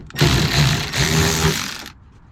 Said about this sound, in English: Just get yourself a ratchet.